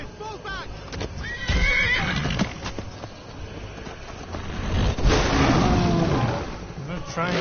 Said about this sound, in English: I'm not trying to scare my horse